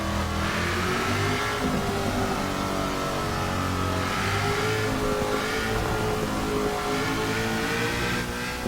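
A Hot Wheels Mustang on race tire compound, revving hard in Forza Motorsport 6, its engine note rising and falling in steady surges of acceleration, loud and continuous throughout.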